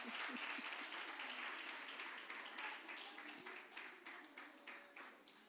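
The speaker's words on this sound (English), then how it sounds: "Another round of applause." Sustained applause from a lecture audience at a spring lecture series, dense steady clapping that fills the whole stretch and thins slightly toward the end.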